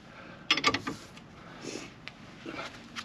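Ratchet clicks and metallic creaks from tightening a ball joint press on a Jeep Grand Cherokee WJ axle, a quick burst of clicks followed by quieter scattered mechanical creaks and taps, close and fairly faint.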